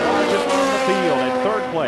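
Sleek Lola and McLaren sports racing cars at an SCCA race in 1980, their engines wailing past in a quick, loud sweep of rising and falling pitch, with some tire squeal under a commentator's voice.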